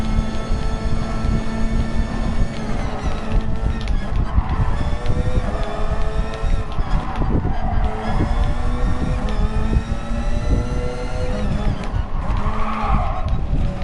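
An LMP1 race car in a PS4 racing video game roars with a steady, loud engine drone and tire squeal, running continuously without pause.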